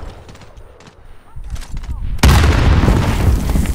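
Frag grenade blast and gunfire in Call of Duty: Modern Warfare multiplayer, with scattered shots first, then a loud broadband explosion that sustains as heavy noise to the end.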